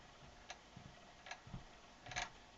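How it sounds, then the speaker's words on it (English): A spring motor in a Victor VV-VI phonograph, its quad cut worm gear turning in an upside-down motor, gives faint, sparse ticks about every second over quiet background hiss. "That ticking sound is because this piece over here, the worm gear, the quad cut worm gear"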